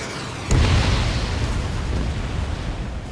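A missile explodes in the aerial combat game Ace Combat 7, a sudden loud boom with a deep low-end rumble that rolls on and slowly fades over a few seconds.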